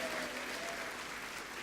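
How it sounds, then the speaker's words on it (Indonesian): An audience applauds at an inspirational talk, a dense, even wash of clapping from many hands that carries on steadily at a moderate distance. "Tepuk tangan buat kita semua kawan-kawan sekalian."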